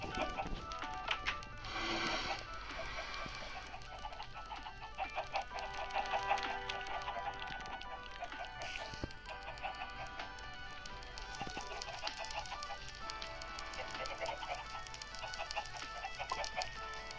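Chicken clucking drifts through a busy, tinny Minecraft soundscape, with scattered clicks and a constant electronic background, moderately quiet and fairly close.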